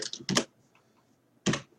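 A computer keyboard is typed on in short bursts while Python code with nested lists and dictionaries is written: a quick cluster of close, sharp key clicks, a pause, then another burst.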